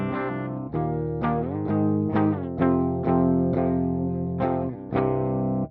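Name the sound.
electric guitar DI signal through GGD Studio Cabs impulse response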